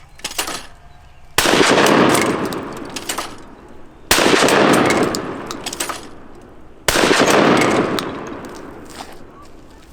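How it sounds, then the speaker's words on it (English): Three loud shotgun blasts from a short Churchill tactical shotgun at skeet clays outdoors, evenly spaced a few seconds apart, each a sharp crack with a long decaying echo. "Three shots, got all 3 clays."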